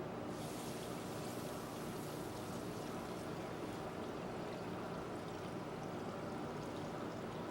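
About a gallon of water poured into a stockpot over Cabernet, Madeira, bay leaf and garlic, a continuous even rushing splash that runs steadily without pause.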